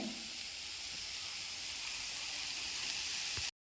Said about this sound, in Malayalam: അപ്പോൾ നമ്മൾ അതിലേക്ക് ഈ പയറിട്ട് കൊടുക്കുവാണേ